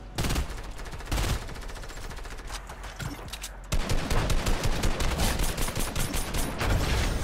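Rapid gunfire from a Fortnite match, dense bursts of automatic shots crackling in quick succession, growing louder and more continuous in the second half.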